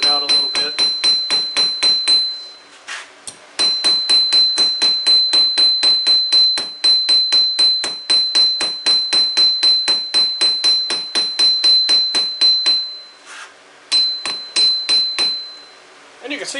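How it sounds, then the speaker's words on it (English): A cross peen hammer strikes hot steel at an angle while forging a taper, with rapid, steady ringing blows in bursts, each hit bright and metallic, pausing briefly a few times between runs. "you can use the cross peen like I'm using and just striking it at about a 25-30 degree angle here"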